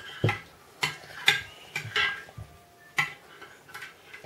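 Gummy candy mixture being stirred in a pot: a spoon knocks and scrapes against the vessel in irregular, fairly close taps spaced about half a second apart, with sticky clicking accents.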